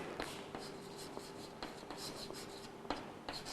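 Marker or chalk strokes on a classroom board during a vector algebra lesson, a series of short scratchy strokes with brief pauses, close and faint, no talking.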